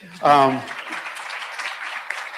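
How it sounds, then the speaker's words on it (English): A brief voiced cry opens, then a conference audience's scattered applause patters on steadily at moderate volume. "You can clap for Kenda."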